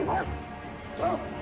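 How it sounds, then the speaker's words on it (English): An enemy dog in Sekiro: Shadows Die Twice gives two short barks or yips about a second apart, fairly faint, amid game sounds. "I think I just had another dog."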